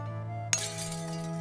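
A block breaks in the building game Rising World with a single sharp glassy clink, standing out briefly above a steady humming music background.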